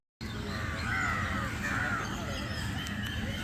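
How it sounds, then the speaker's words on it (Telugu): Crows caw noisily from trees beside a road near a temple in Arunachalam, a steady chorus of overlapping harsh calls at moderate distance, continuous throughout. "కాకులు చెట్ల పైన గోలగోల"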